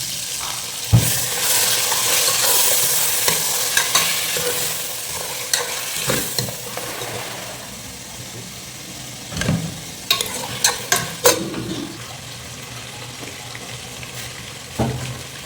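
Ginger garlic paste frying in hot oil for mutton dum biryani, a steady broadband sizzle throughout with sharp scraping clicks and taps of stirring scattered across, loud and close, with no talking.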